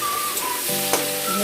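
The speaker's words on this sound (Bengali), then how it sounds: "পেঁয়াজটা লাল লাল করে ভাজা" Onions sizzling and frying in a pan for a spicy chicken kosha, a steady close hiss of hot oil under soft background music tones.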